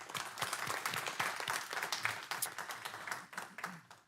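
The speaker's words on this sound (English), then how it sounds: "Please give him a round of applause." Audience at a city council meeting applauding, a steady patter of many hands clapping at moderate distance for a few seconds.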